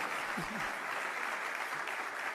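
Audience applauding at a political event after a line about border security, a steady broad wash of clapping throughout, loud and continuous, with a brief voice near the start.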